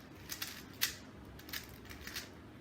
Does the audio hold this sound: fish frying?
no